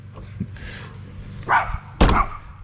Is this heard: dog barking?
yes